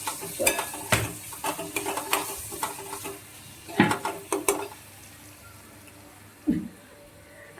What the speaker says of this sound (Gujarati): હવે આપણે વઘાર કરવાનો જ બાકી છે દાળમાં